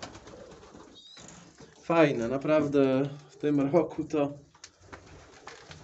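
Light silver Vienna flight pigeons coo softly in the background while someone talks over them through the middle of the clip.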